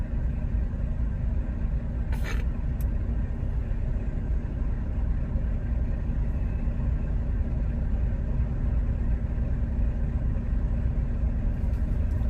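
A semi truck's diesel engine idles in cold weather with a steady, close, low rumble that runs unbroken throughout, and a single faint click sounds early on.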